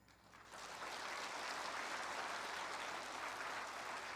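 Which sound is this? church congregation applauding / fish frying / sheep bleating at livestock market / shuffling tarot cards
church congregation applauding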